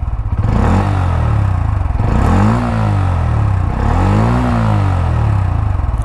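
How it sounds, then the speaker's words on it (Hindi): A blue 2024 Bajaj Pulsar N160 motorcycle idles and revs up close and loud, its exhaust note rising and falling in three smooth revs over a constant throbbing rumble, with no talking. "एग्जॉस्ट नोट सुनो आप लोग, Pulsar N160 blue colour addition"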